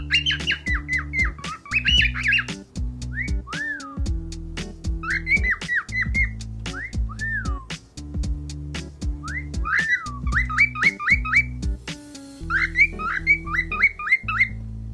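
A young male cockatiel whistles chirpy repeated phrases and breaks into shrill squawks, very close and loud, over a low steady background.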